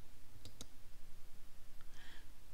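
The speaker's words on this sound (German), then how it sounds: "Dann einfach auf Bestellen klicken" Two quick, sharp computer mouse clicks close up, then a fainter click and a brief soft chime against a quiet, humming room.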